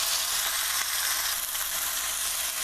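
Flat iron steak browning in a pan over a very high flame, a dense, loud, continuous sizzle up close with no talking.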